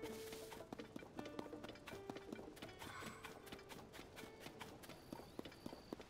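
Horse hooves clip-clopping in Zelda Tears of the Kingdom, a steady quick trotting rhythm over a continuous game soundscape, faint overall, with no talking.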